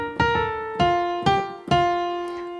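A piano plays the closing phrase of Happy Birthday with four struck notes in steady succession. Each attack is crisp and decays smoothly, heard solo and close without any talking.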